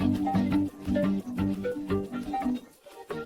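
Isolated instrumental stems from a pop song play alone, with layered melodic notes and chords moving in a steady rhythm at moderate volume.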